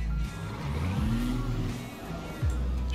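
A Scania truck engine in Euro Truck Simulator 2 drones loudly and steadily, its pitch climbing and dipping as revs change, with a short drop and then a renewed low rumble near the end.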